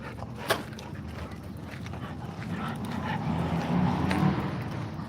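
A dog moves about outdoors with faint snuffling and light sounds, under steady background noise; a brief sharp sound stands out near the start.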